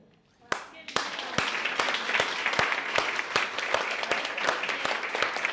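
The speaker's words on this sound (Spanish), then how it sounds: "Gracias por los aplausos." An audience bursts into sustained applause after a spoken reading, many hands clapping steadily with sharp individual claps standing out, filling the room at even loudness.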